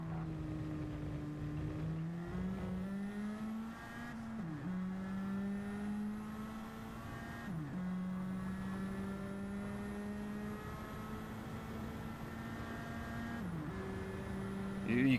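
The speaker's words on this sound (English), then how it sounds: "You can hear it bog down just a little bit when he shifts" A Nissan Silvia race car in a racing video game holds a steady, droning engine note. The pitch drops briefly at each gear shift as the engine bogs slightly, then climbs again.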